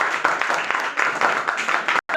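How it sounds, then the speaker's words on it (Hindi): A small group at a school Hindi Day event claps steadily for about two seconds to welcome a student speaker, the applause fairly loud and even, then it cuts off abruptly. "तालियों की गड़गड़ाहट के साथ स्वागत करें प्रथम का"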